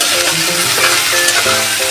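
Chopped capsicum, green chilli and small cauliflower pieces fry in hot oil in a pan, a loud, close, continuous sizzle with faint stirring scrapes and no talking.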